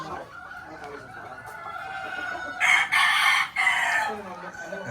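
Roundhead bulik gamefowl roosters crow loudly nearby, with one strong cock-a-doodle-doo in the middle, over a background of other birds clucking and faint crowing.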